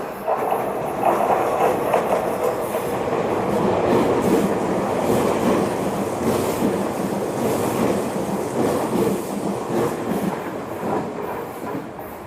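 A Spacia X express train rolls through Horikiri Station, a loud, steady rumble and rush of wheels with rail clatter that holds close and full for the whole pass.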